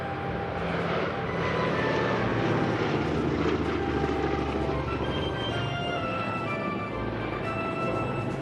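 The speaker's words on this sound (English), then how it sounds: "Another major attraction at any air show is a display of vintage aircraft," Vintage aircraft flying over an air show, a steady broadband engine roar holding for the whole stretch without pause, loud and fairly close, with no voices over it.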